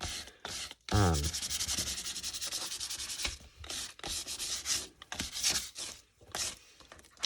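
Old sandpaper is rubbed over a craft piece in quick, close, rhythmic scratchy strokes, with short pauses between bursts of sanding and no talking.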